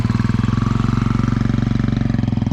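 A motorbike engine runs steadily close by on a road at Nagarkot, its loud, even throbbing pulse holding without pause as the bike is ridden.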